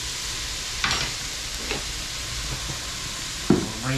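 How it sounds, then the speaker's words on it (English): Garlic dropped into a hot pan sizzles steadily while being stirred, with a few sharper bursts and scrapes over the constant frying hiss, close and moderately loud, no talking. "I want to bring in first a little bit of garlic."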